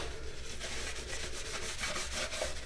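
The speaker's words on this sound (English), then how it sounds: "I'm going to add a little rub and buff to it. Polish it off." A cloth buffs Rub 'n Buff wax onto a metal finish, giving close, steady back-and-forth rubbing strokes in a quick, continuous rhythm that runs for the whole clip with no talk.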